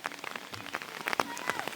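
Rain falling in a mountain village in Devbhoomi, a soft patter of drops on surfaces with scattered brief taps, fairly faint and steady throughout.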